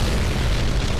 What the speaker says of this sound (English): They just literally did a drive-by bombing.